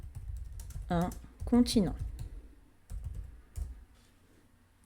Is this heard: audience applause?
no